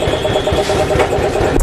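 A Yamaha R15 V1 motorcycle engine, partway through restoration, running steadily at idle just after starting, with a close, continuous mid-pitched chug and rhythmic pulsing throughout.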